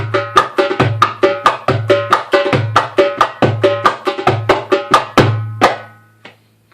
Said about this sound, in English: So now we're doing a Maqsum with pops.